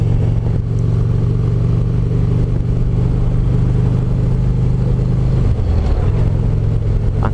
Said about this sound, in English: I feel like this bike runs much better when it's cold out like this.